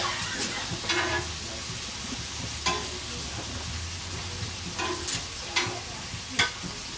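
Scallops sizzle steadily in a hot frying pan, a continuous close hiss broken by a few sharp clinks and scrapes as they are placed and moved, with no talking.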